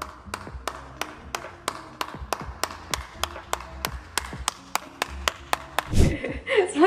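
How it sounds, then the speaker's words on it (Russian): Slow, evenly spaced clapping of a single pair of hands, about twenty crisp claps close to the microphone, ending in a muffled rustle. "Аплодисменты, аплодисменты."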